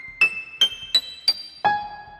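MIDI music generated by a Python script and converted to MP3 plays five short, bright bell-like synth notes in quick succession, each a clear percussive tone, the last dropping lower and ringing out longer.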